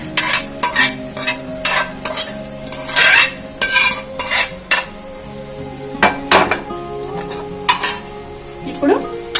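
Spinach and cooked toor dal curry being stirred together in a metal pot, with a ladle scraping and clinking against the sides in irregular bursts over a faint background sizzle.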